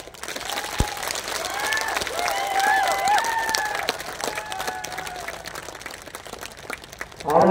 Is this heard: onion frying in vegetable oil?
no